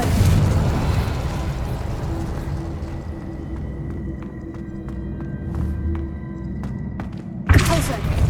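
Incendio fire spell and Confringo blasting spell impacts in the Hogwarts Legacy video game, low thudding booms amid busy combat sounds and a steady tonal hum, ending in a sudden loud burst; a voice shouts spell names.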